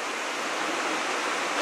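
Waterfall along a mountain trail in the Karwendel near Mittenwald, a steady, dense broadband rush of falling water that holds constant without pauses and carries no voices.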